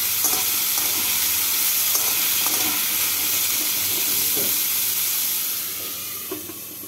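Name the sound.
pumpkin pieces frying and stirred in oil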